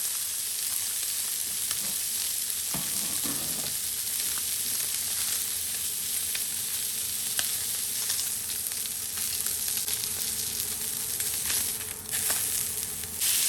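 Seafood and fish skewers sizzle on a hot cooking surface, a continuous bright crackling fry heard close and steady throughout, with occasional small pops and scrapes and no talking.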